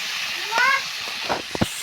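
Boiled potatoes and tomatoes fry in a pan with cooked spice paste for a rohu fish ghanti, giving a steady close sizzling hiss with a few soft clinks and stirring sounds.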